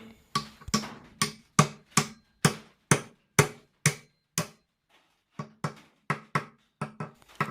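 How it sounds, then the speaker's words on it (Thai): Repeated sharp metallic hammer blows at a steady rhythm as a bearing is driven into a Kubota L3408DI tractor's rear axle, a pause, then another series of strikes, close and distinct with no talking. "วางตลับลูกปืนลงไป แล้วก็ค่อยๆ ตอกให้เข้าที่"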